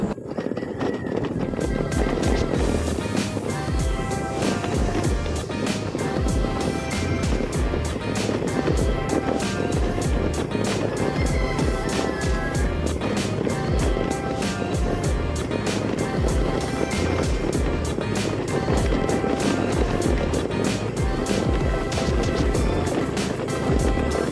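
A motorcycle engine drones steadily while the ride rattles and jolts constantly over a rough road in Anda, Bohol, loud and sustained with wind noise throughout.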